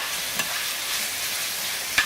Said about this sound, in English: we're just gonna stir and move and stir and move until we don't see any of more like those red spots on the chicken.